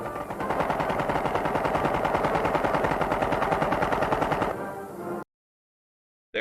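A machine gun fires in a 1930 Marine Corps training film: a continuous, loud, rapid staccato burst lasts several seconds, then cuts off abruptly.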